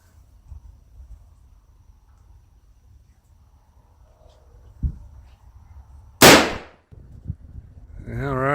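A single sharp gunshot from a Ruger/Marlin 1894 lever-action rifle cracks loud and close at an outdoor range, standing out sharply against quiet surroundings, followed by a few soft handling clicks and a voice starting to speak.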